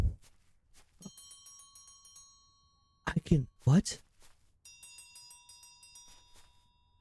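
Electronic bell chimes ring twice in a video game, each a bright sustained tonal ding with ringing overtones, separated by a stretch of talk and brief noise, moderately loud and close.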